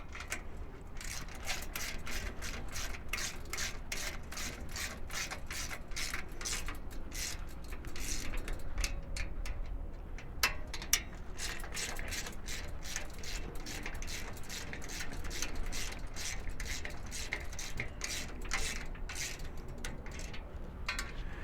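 Ratchet clicking in steady rapid strokes while the end bolts of a VelociRAX MAX rack are tightened, a continuous close mechanical ticking that runs throughout with no talk.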